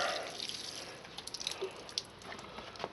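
Water trickles and drips onto green pepper plants in a garden, with small irregular splashes and patters against a steady soft hiss.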